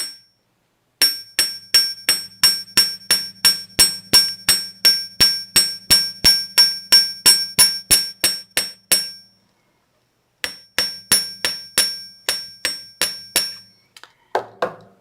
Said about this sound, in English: Just bring it out so you can hammer it.